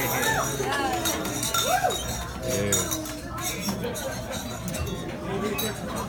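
Glasses clink together in a wedding toast after a best man speech, light bright chinks scattered over loud crowd chatter, cheering and laughter throughout.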